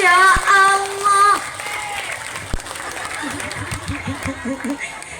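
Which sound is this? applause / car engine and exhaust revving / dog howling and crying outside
applause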